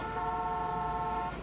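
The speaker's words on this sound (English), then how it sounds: "Yo, bro, don't honk at me!" A car horn blares in one sustained honk lasting over a second, loud and close over a low street rumble, with no voices during it.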